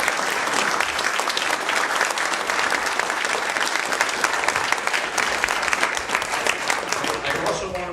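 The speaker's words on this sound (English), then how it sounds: "they all deserve a wide round of applause" Audience at a VT Sierra wind forum breaks into sustained applause, a dense, steady wash of many hands clapping that fills the room for the full stretch, with a few voices faintly mixed in near the end.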